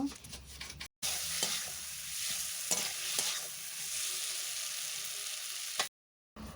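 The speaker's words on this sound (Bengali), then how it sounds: "আলু আর মাশরুম দেওয়ার পর ভালোভাবে আমি মশলার সাথে কষে নেব।" Potatoes and mushrooms are stir-fried with spices in a pan, giving a loud, continuous sizzle with periodic scraping strokes, broken by two brief silent cuts.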